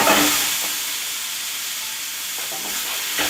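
Broccoli cooking in a hot pan, a steady loud sizzling hiss that holds throughout with a few faint clicks of stirring, close up and with no talking.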